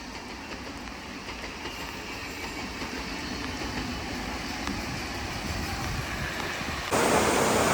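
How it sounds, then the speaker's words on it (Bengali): Lalgola–Ranaghat local train passing in the rain, a steady broad rumble and rail clatter close by throughout, growing louder and harsher near the end as the coaches roll past. "পাস হচ্ছে লালগোলা রানাঘাট লোকাল।"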